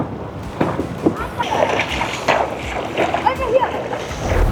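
Water splashes and sloshes around a Vanhunks Viztacraft 360 kayak out on the water, with wind buffeting the microphone and a voice talking over the paddling noise.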